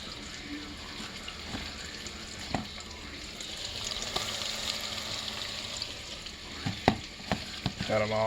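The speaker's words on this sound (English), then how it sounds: "Pop them in the Fry Daddy." Spicy pheasant breast strips deep frying in a Fry Daddy, a steady close bubbling sizzle with a few clinks and knocks of utensils.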